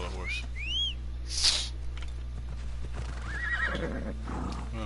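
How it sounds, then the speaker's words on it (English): A horse in the Assassin's Creed Odyssey video game gives a loud neigh and whinny, preceded by a rising whistle call, with soft hoof clip-clops and a steady low game hum underneath. "let's call the horse"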